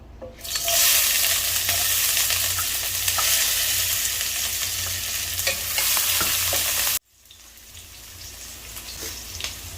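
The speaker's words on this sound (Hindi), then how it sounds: "मस्टर्ड ऑयल मैंने डाल दिया, बहुत थोड़ा सा डाला है। इसमें मैं डाल दूंगी प्याज और हरी मिर्च जो मैंने काट के रखे हुए हैं।" Chopped onion and green chili hit hot mustard oil with a loud, bright sizzle that holds steady for several seconds, then drops sharply to a quieter crackling fry as stirring continues.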